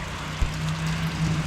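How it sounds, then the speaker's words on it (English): Heavy rain pours down steadily outdoors at a firewood kiln site, a dense continuous hiss with a low steady hum underneath and no voices. "It's starting to rain harder and harder."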